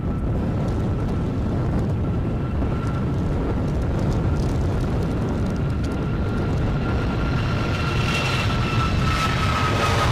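Airplane at Edinburgh airport on a windy day, a steady low engine roar with a faint high whine, continuous and moderately distant, with wind noise and no talk.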